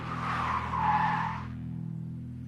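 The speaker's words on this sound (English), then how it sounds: "He hits the foot brake." A car brakes hard, its tires squealing in a loud, sustained skid for over a second before the screech fades, leaving only a low engine hum.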